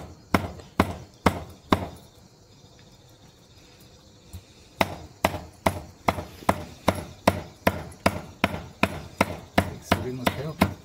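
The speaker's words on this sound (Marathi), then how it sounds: "पहिले छोट्या छोट्या स्लाइस मारून घ्यायचं." Knife chopping squid into small slices for kheema on a board, a steady run of sharp, close thuds with a brief pause before the rhythmic chopping resumes.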